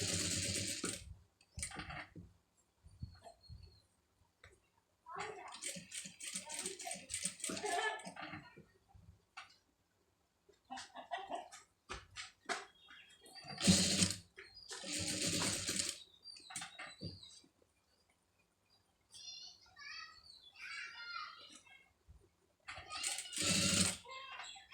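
A sewing machine stitches a scallop design onto a blouse in short, quiet bursts of rapid needle clatter, separated by pauses and faint handling noises.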